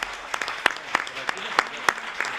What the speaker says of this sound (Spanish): pido un aplauso para que así sea